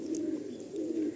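An Andhra pigeon coos inside a loft, a soft low warbling call rising and falling in a continuous close stretch with faint background noise.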